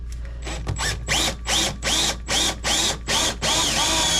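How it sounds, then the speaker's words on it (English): A drill with a small 1/8 inch bit bores a pilot hole in an RV wall, running in eight or nine short, even bursts of whining spin over a low steady hum, close and fairly loud. "I'm just going to start with a little 1/8 inch bit right in the center"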